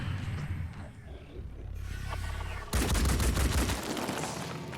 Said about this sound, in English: Stop shooting my stuff.